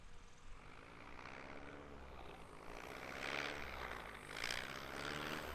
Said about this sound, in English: There's Austin now goosing the throttle.